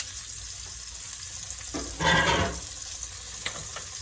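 Shrimp frying in a pan at home, a low steady sizzle with a brief louder burst of crackling as they are stirred and turned, then a quieter sizzle.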